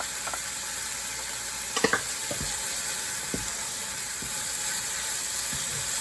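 Pimentos sizzling in a hot pan for a red conch stew sauce alongside tomato, a steady frying hiss with a few soft clicks and scrapes of stirring.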